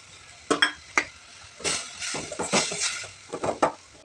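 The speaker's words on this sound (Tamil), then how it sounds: "கீரை வதங்கிட்டு இருக்குதுங்க" Manathakkali greens with grated coconut sautéing in a pan, with scattered sizzling and sharp stirring scrapes and clinks of a utensil against the pan, close and fairly loud, with no talk.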